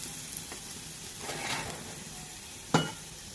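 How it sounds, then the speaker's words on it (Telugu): Cabbage sizzles in hot tempering oil, a steady close frying hiss with a couple of sharp stirring clinks against the pan. "క్యాబేజీని కూడా పోపులో వేసేసుకోవాలి"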